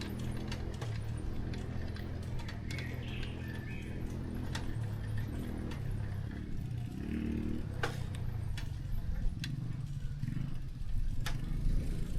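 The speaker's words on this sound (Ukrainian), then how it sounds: "Чутно звуки від мотоциклів." Motorcycle engines rumble at a distance beneath steady outdoor ambience in the Vynnyky forest, a low continuous drone with no speech.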